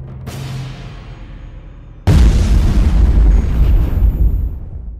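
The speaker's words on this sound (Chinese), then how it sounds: "史坚如顺利引爆炸药" Dynamite detonating in a sudden loud blast that hits at about two seconds and roars on with broad rumbling energy, after a quieter earlier crack and decaying tail.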